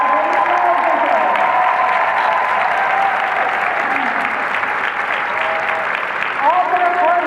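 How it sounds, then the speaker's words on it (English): Audience applause at a Mary Kay career conference, a continuous clapping wash for about seven seconds, with a voice and tonal sounds over it. "Please give them a round of applause."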